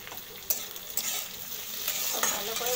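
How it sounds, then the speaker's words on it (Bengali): Potatoes fry in a pan with oil and get stirred, a steady close sizzle broken by spatula scrapes and a few sharper knocks against the pan, with no voices. "আলুটা একটু ভাজা ভাজা করছি।"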